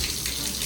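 Tap water runs steadily into a child's bath, a brief continuous splashing rush with no talk.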